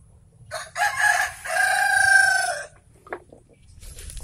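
A free-range village hen that has just laid an egg calls loudly and close by in two long drawn-out squawking phrases, followed by a brief sharp cluck and some faint background noise.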